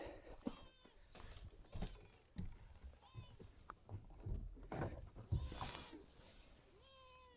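A cat on a farm gives several short, fairly faint meows spread through the clip, with someone talking to it nearby and some rustling and thumping.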